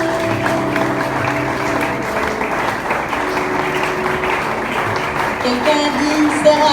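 A church congregation claps and cheers in praise, a dense steady wash of applause and voices filling the room throughout.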